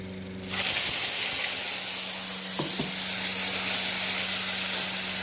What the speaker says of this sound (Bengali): আদাটা টমেটো আর লঙ্কাটাকে ভালো করে কষানোর সময়